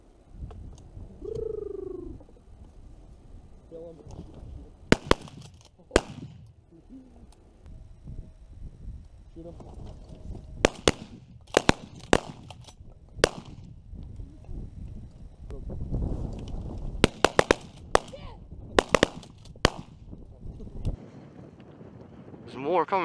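Shotgun shots fired during a pigeon hunt, a string of sharp separate blasts spread irregularly through the scene, some close together in quick pairs, over outdoor wind noise with people talking in between.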